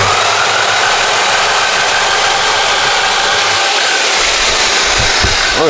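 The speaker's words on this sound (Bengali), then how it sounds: "এটা কারেন্টের সাহায্যে নাট খুলবে" Electric nut runner for vehicle wheel nuts running loud and close, a steady high whirring motor drone with rattling vibration that shifts slightly near the end.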